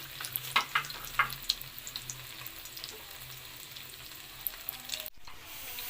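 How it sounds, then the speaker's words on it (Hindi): Shami kababs frying in a pan, a steady close sizzle with crackling pops in the first seconds, cut off by a brief drop near the end before the hiss resumes. "पहले एक तरफ से फ्राई करेंगे, फिर हम पलट देंगे और दूसरी तरफ से फ्राई करेंगे।"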